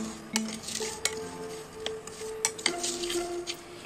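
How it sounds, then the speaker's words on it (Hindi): Coriander and black mustard seeds being lightly dry roasted in a pan for a vegetable pickle, with a spoon stirring and scraping against the metal in quick irregular clinks and scrapes, close and moderately loud, no talking. "तो इन मसालों को हम रोस्ट कर लेते हैं। मसालों को हम हल्का रोस्ट करेंगे"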